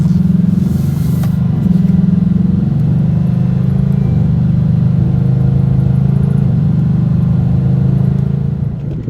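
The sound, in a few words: Ford Mustang GT engine revving in sport mode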